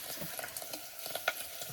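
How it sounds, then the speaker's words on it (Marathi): A pot stirred over a wood-burning chulha fire, with irregular scraping and clinking strokes over a soft background sizzle and one sharper knock near the end; no talking. "टोप हलव."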